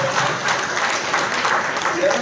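An audience claps steadily for a couple of seconds at a free TNPSC exam coaching event, a dense, even wash of applause close by.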